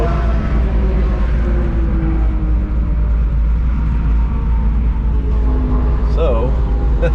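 A 1968 street car's engine drones loudly and steadily while held in second gear through a speed stop run, a constant heavy rumble from inside the car with a voice speaking over it.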